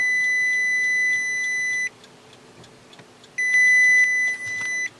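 Continuity beeps from an ANENG A3010 pen-type multimeter: a steady high electronic tone held for almost two seconds, a pause, then a second sustained beep of similar length, close and loud with no talking.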